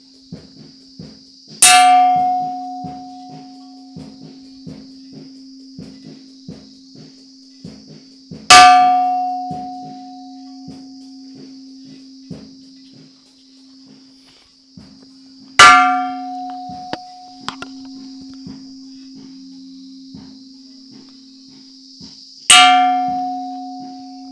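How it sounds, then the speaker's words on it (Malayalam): A parish church bell, struck with a hammer to call people to a retreat, gives four loud, resonant clangs about seven seconds apart. Each clang rings out and fades slowly, with faint clicks in the quiet gaps. "ഈ പള്ളിമണി കേട്ട് ആളുകളൊക്കെ വരും ധ്യാനത്തിന്"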